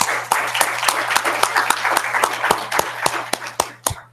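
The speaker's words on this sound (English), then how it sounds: "I think you actually deserve a round of applause" Sustained applause from a convocation audience honoring search committee members, many hands clapping steadily for about four seconds with a few sharp individual claps standing out as it tapers off, faint voices underneath.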